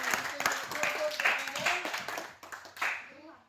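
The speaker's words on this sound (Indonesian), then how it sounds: "Tepuk tangan anak-anak" Children in a Christian religious education classroom clap their hands in scattered, uneven bursts, the sharp claps mixed with an adult voice talking close by.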